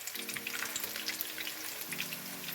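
Hash browns fry in hot oil with a soft, continuous crackle and spatter throughout, fairly faint, over a low background hum.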